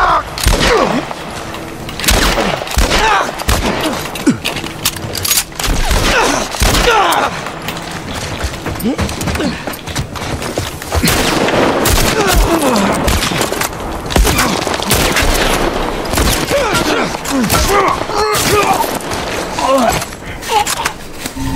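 Shotgun blasts and gunfire in The Last Of Us video game come as repeated loud booms and thuds spread across a busy game soundtrack, with someone talking over much of it.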